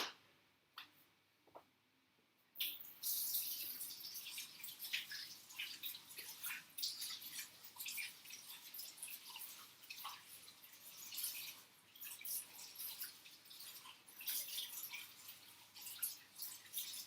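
Hands washed under a running kitchen tap, a steady splashing stream with small drips and scattered clicks, starting after a brief quiet opening and staying faint and close throughout.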